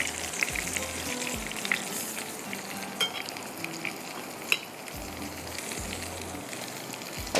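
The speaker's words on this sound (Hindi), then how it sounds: "ये अभी इसको हम फ्राई करते हैं" Pieces for sausage cheese rolls fry in hot oil, a steady, fairly quiet sizzle and crackle running throughout, with a few soft knocks and stirs near the pan.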